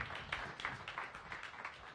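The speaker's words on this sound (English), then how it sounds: "Let's give him one more round of applause" An audience at a science cafe talk applauds, a soft, distant wash of many hands clapping that carries on steadily for a couple of seconds.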